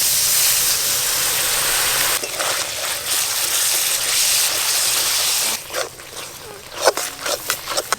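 Loud, dense sizzling and hiss as a little water hits frying spice paste for a spicy catfish curry, the sizzle fading after several seconds into scattered clinks and stirring.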